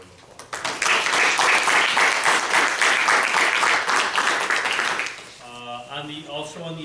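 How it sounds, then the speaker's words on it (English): A school board meeting audience breaks into loud, sustained applause for about four seconds, then it fades as a voice starts talking. "maybe we can give them a round of applause"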